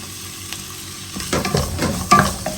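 Chopped potatoes sauté in a pan. After a quiet start, stirring clatter and a close, crackling sizzle burst in and grow louder toward the end.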